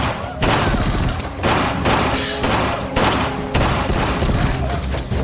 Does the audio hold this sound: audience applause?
no